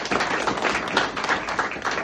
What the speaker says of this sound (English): So I just want to give you guys a round of applause.